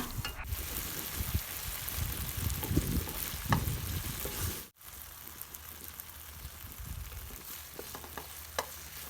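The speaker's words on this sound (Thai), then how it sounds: "พอใส่แหนมลงไปแล้วนะคะ จะค่อยๆ ผัดแหนมให้แหนมสุกก่อนนะคะ" Fermented Thai pork (naem) sizzles in melted butter in a pan, a steady close frying hiss broken by scraping stirs and a brief clatter midway, with no talking.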